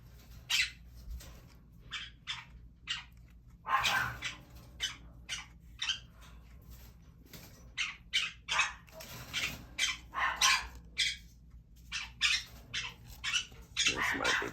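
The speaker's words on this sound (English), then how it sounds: "evidently the neighbor's dog is in our backyard" A neighbor's dog barks repeatedly in a backyard in irregular bursts, some doubled, heard at a moderate distance against a quiet background hum.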